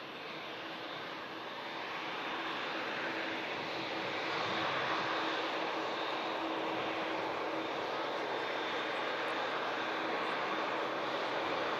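A Boeing 737 MAX jet takes off at Manchester Airport, its engines a broad, steady roar that grows slightly louder and holds at a fair distance.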